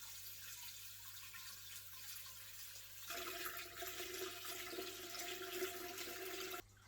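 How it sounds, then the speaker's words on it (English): Water is poured into a glass aquascape bowl, starting after a quiet stretch as a steady, close gushing and splashing flow that runs until it stops abruptly. "I'm going to fill it up with water now"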